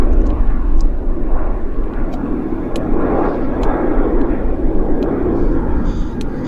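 A small Boeing airliner passes at Vancouver airport, its engines a loud, steady broadband roar that holds throughout with faint ticking and clicks in the background.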